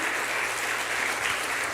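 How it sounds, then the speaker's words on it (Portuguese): A church congregation gives a short, steady round of applause during a sermon, heard as a brief, moderately soft burst of clapping. "Dá uma salva de palmas para o Senhor."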